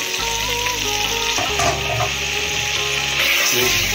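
Carrot, sweet potato, beans and tomato go into ginger-garlic paste frying for sambar, giving a loud, close sizzle with stirring scrapes and brief bursts as the vegetables hit the oil.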